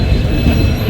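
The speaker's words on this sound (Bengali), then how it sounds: "আমাদের ট্রেন কিন্তু এই যে শালিমারের দিকে যাচ্ছে" The Shalimar SF Express rumbles steadily along the rails toward Shalimar, a loud, continuous low roar of wheels and carriage noise with no talk.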